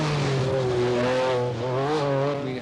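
An MG Metro 6R4 rally car engine drones loudly and steadily on gravel, pitch rising and falling with the revs as it drives at speed.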